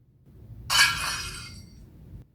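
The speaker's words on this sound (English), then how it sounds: "a plate smashing" A plate smashes once, a sharp burst of breaking ceramic and glassy shards that rings out briefly and fades, heard alone with no talk.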